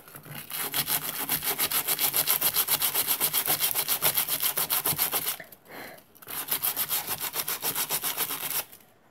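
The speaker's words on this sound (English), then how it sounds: "So I'm going to try my best to sand this area." Wooden step stool sanded by hand, a steady rhythmic rasping of quick back-and-forth strokes, close and continuous, with one short pause midway before the strokes resume.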